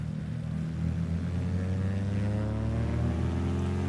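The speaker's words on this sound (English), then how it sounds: "You can hear that unique sound because of that rear engine." Twin-engine Cessna 337H Skymaster in the FSX flight simulator, its front and rear engines revving up together for takeoff in a loud, steady droning roar that rises in pitch over a few seconds.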